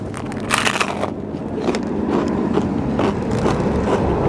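Loud crunching bites into a crisp, airy New York pizza crust with hot honey, several crackly chews in a row close up, with no talking.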